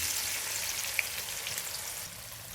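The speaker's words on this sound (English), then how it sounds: "Now add our marinated paneer tikkas to the pan." Marinated paneer tikka frying in a pan of melted ghee and oil, giving a steady, soft, even sizzle with one small pop, close and fairly quiet.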